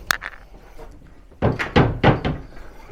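A wardrobe in a pub's guest room tips forward and rattles side to side, giving a few soft, close wooden knocks followed by a cluster of louder hollow thunks.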